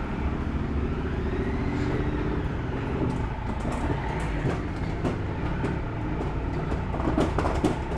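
Continuous rolling rumble and clatter of a Triumph Trophy 1200S motorcycle riding in gear, steady and fairly loud throughout with scattered rhythmic knocks and clicks building toward the end.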